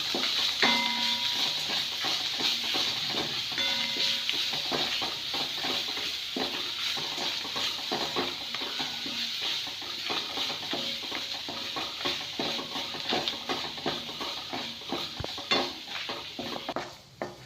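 Curry leaves and grated coconut roasting in a pan for a home-style kuzhambu, with a steady crackling sizzle and frequent scraping and clinking of a spoon against the pan throughout, close and fairly loud, no talking.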